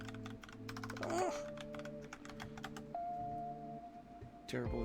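Rapid bursts of clicky computer keyboard typing come in quick irregular runs, close and fairly quiet, with a soft electronic tone and a brief thump partway through.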